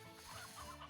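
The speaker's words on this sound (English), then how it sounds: "Oh, Lord, we've got a lot of these chickens." Many chickens cluck continuously in Slime Rancher 2, a busy overlapping flock of short clucks and squawks at moderate loudness, with no talking.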